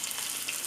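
Chicken lollipops frying in hot oil make a brief, close, hissing sizzle, steady and moderately loud, with no talking.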